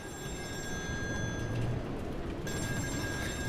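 A telephone rings in the video game Still Wakes The Deep, a continuous electronic bell trill over a dense low rumble of ambient noise, steady throughout with a brief shift near the end.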